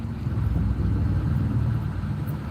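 Car engine idling in a traffic jam, a steady low rumble heard from inside the vehicle, constant and unbroken with no voices.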